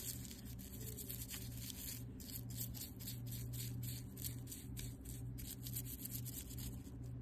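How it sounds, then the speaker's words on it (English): A brush scrubs grease and dirt from small fishing reel parts in steady, rhythmic strokes, a soft, close rasping that carries on without pause. "I will start scrubbing all the parts, trying to get all of the grease and dirt and everything else off."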